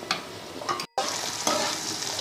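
Chicken frying with Kashmiri chilli powder for chilli chicken, stirred in the pan: a steady close sizzle with scraping strokes of the spatula, briefly cut out before resuming.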